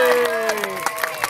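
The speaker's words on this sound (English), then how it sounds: "I'll have a little round of applause for Hayden now" A small audience claps for Hayden at a human juggler's street show, the scattered, rhythmic applause mixing with raised voices and cheering for about a second.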